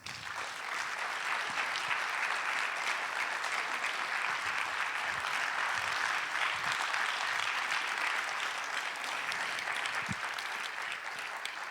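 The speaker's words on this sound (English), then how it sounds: "Please give her and all the other supporters a very big and special applause." Conference audience applauding at a farewell session, a dense, even wash of many hands clapping that holds steady throughout without voices.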